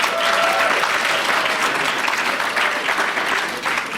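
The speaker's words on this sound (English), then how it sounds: "can you give this panel of very exciting students a resounding round of applause" Sustained audience applause from a debate crowd at a university summit, steady and dense clapping that fills the whole stretch without pause.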